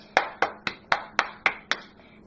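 Wet hands clapping together to spread water, seven sharp, evenly spaced claps close up at a steady rhythm, with nothing else heard between them.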